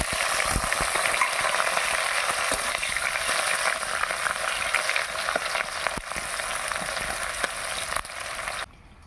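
Bay leaf and chopped onion frying in a generous amount of hot oil over a wood fire for chicken kasha, a steady close sizzle with scattered crackles and pops that cuts off abruptly at the end.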